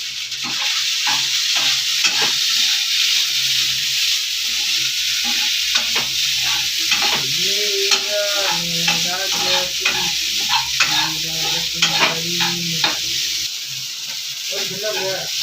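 Idli upma sizzles steadily in a hot pan with scraping stirring sounds throughout, while a voice talks over the frying partway through.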